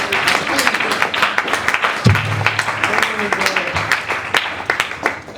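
A gathering at a funeral applauds themselves, scattered hand claps going on throughout while a voice talks over them.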